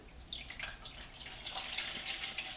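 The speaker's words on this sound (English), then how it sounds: "next I take some filtered water" Filtered water pours steadily into a turkey roasting pan, a soft continuous splashing and trickling heard close but faint throughout.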